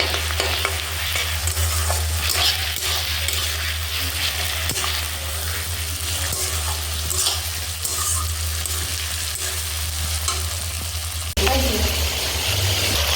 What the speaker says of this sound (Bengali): এবার আমি আদা রসুনের বাটা দিচ্ছি, দিয়ে আবার 5 মিনিট নেড়ে নিচ্ছি